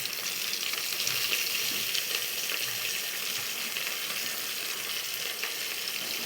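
Ingredients for pappu charu fry in a pan as turmeric goes in, producing a loud, continuous close-up sizzle and crackle that stays steady throughout.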